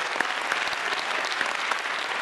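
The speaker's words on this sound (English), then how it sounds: "Let's clap our hands to the Lord." Church congregation clapping hands together at an Easter Sunday morning service, a dense, steady wash of applause with faint voices mixed in, filling the room at moderate loudness throughout.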